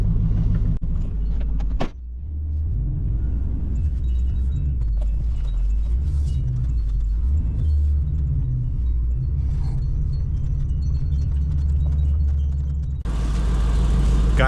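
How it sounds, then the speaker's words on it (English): A 2002 Chevy 1500 pickup doing a burnout in the cold: a loud, steady engine roar and rumble held near and continuous throughout, with a brief dip early and a harsher burst of noise toward the end. "Guy couldn't just resist doing a burnout before we tear it apart."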